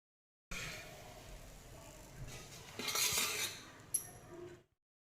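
A paratha is lifted off the hot pan, with soft scraping and metallic clinks of a utensil against cookware, faint at first, then a sharper clink near the end, with no speech.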